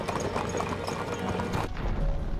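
Steady hoofbeats of a horse-drawn carriage clopping along, close and continuous, with a sudden shift in texture near the end.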